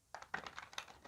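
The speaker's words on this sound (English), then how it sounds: "Let's see how it shuffles." A short run of quick, soft papery flutters and taps as a limited-edition tarot card deck is shuffled by hand, faint and close, with no talking.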